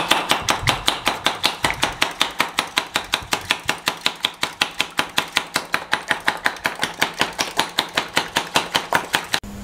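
Eggs beaten with salt and yellow food colouring in a bowl give fast, steady, evenly spaced tapping strokes, close up and unaccompanied.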